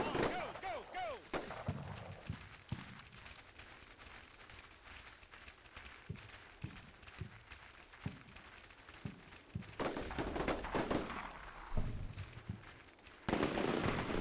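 Gunshots in a military shooter game, scattered sharp cracks spread across the stretch, some near and loud and others farther off, with footsteps and brief speech between them.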